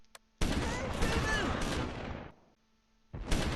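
Light machine guns fire in sustained bursts at an anti-tank gun in the Close Combat IV war game, a dense crackling rattle lasting about two seconds, then a pause before another burst starts.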